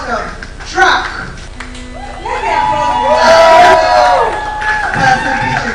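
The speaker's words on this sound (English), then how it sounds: "Ladies and gentlemen, a round of applause as we welcome Truck" Crowd cheering and applause at a founders' demo day event, welcoming a startup founder to the stage, mixed with whoops and background music, loud and sustained under voices.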